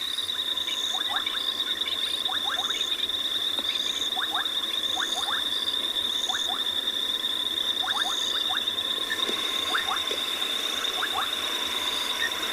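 Many frogs calling near a dam at night, a dense steady chorus of repeated chirps and trills over a constant high-pitched whine and the broad hiss of flowing water.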